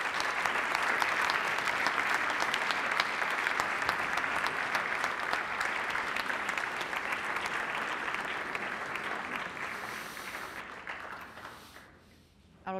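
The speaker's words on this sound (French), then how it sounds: "et vous pouvez les applaudir." A large audience at an award ceremony applauds in a dense, sustained burst of clapping that carries on steadily and then fades out toward the end.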